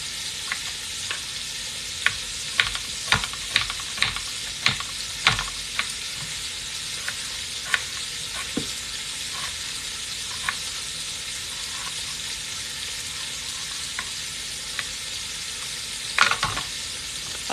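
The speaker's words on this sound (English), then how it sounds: "I like to put my onion in with my sausage while my sausage is browning." Sausage and onion brown together in a pan, giving a continuous sizzle dotted with sharp clicks and taps of a utensil against the pan over several seconds, with no talking.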